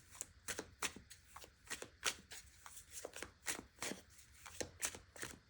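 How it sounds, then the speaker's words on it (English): Tarot cards are shuffled by hand in quick, rhythmic riffling bursts, each a crisp papery flutter repeating steadily at close range, soft overall, with no voices. "I'm going to pull some more tarot cards"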